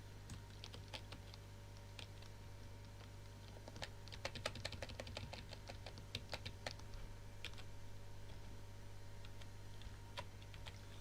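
Rapid, uneven keystrokes on a computer keyboard clatter close by over a steady low electrical hum, with a denser burst of typing midway and no talk.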